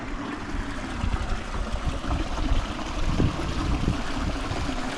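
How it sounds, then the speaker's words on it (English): Water flows through a channel beneath a street in the ancient city of Perge, giving a steady, moderately loud trickling rush with small splashy bursts and no voices. "the sign did say the water goes all the way under that street we just walked over"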